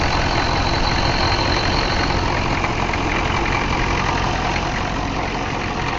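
A 1993 Chevy truck's 6.5 turbo diesel idles steadily up close, a loud, even, continuous clattering rumble with no misses, and no one talking.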